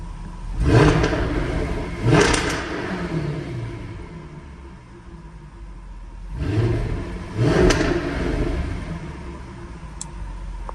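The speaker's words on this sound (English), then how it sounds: "I want to show it to you how this car sounds" A car bought at auction, its timing and fuel pump just repaired, idles with a steady rumble and is revved twice, then twice more, each rev a strong rising roar that settles back to idle.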